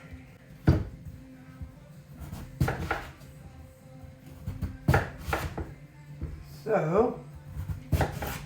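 A knife cuts through rutabaga on a board, giving a few sharp, separate thunks spaced over several seconds, with quiet kitchen clatter and a brief voice between the cuts.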